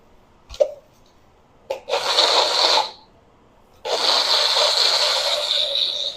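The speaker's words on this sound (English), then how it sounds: "Then we're gonna let this thing blend." A blender making Alfredo sauce whirs in two loud bursts, a short run then a pause before it starts again and keeps running steadily, with a brief knock beforehand.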